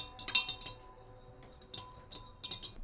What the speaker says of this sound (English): It's very nice to stir it with a real silver spoon from the 1820s